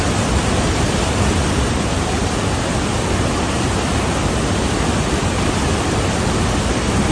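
A flooded mountain nala roars without pause after a cloudburst in Himachal Pradesh, its dense, loud rushing water steady throughout and free of voices.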